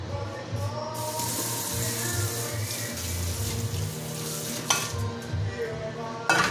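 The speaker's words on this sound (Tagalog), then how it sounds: "And then I'm going to saute." Sautéing in a pan, with a steady loud hiss of frying running throughout and close spatula scrapes, plus a couple of sharp clanks near the end.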